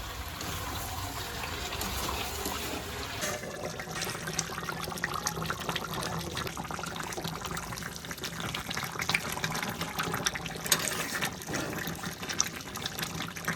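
Water pours and splashes continuously in a kitchen, a steady gushing fill with bright trickling texture and occasional louder splashes, close by.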